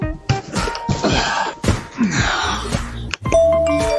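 A doorbell chimes a ding-dong tone amid a busy mix of music and other sounds, with a few thumps scattered through it.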